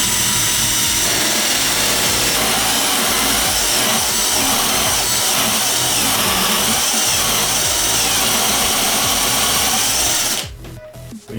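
A Ginour 12V electric drill driver bores into a 1x4 wooden board with a loud, continuous high-pitched whine and grind lasting about ten seconds, then stops abruptly into quiet.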